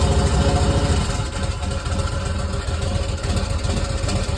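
A Harley-Davidson Sportster motorcycle engine fitted with a single fire ignition runs steadily at idle, with a loud, close, continuous low-pitched rumble and no talk.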